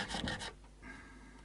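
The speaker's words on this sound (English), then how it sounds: "I'm going to switch to the smoother side of the file for a minute" Smooth side of a metal file rubbed briefly over a Tokai Firebird guitar's potentiometer parts, a soft close rasp that fades to quiet hiss partway through.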